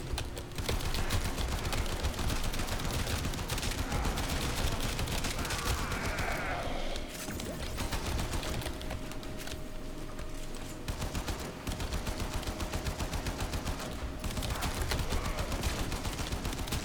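MK1 Braton rifle fire in Warframe: dense, sustained automatic gunfire that rattles almost without pause, with short lulls, and fairly loud throughout.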